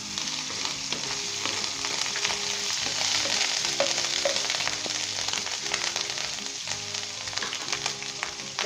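Ginger garlic paste sizzling in hot oil for a Pakistani Punjabi turmeric chicken, a steady dense frying crackle that runs unbroken throughout, with occasional stirring.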